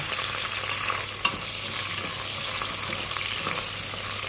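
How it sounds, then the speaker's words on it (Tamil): Onion, curry leaves and garlic sauté together in a pan for vathal kuzhambu, giving a steady close sizzle with a light stir and one sharp clink of the utensil partway through, no voices. "ஒரு வதக்கு வதக்குவோம்"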